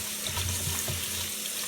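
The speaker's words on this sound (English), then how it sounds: "Now guys, I'm going to wash my oxtail." Oxtail is washed in a sink under a running tap, a steady close gush of water splashing with slight shifts in tone as the meat is moved.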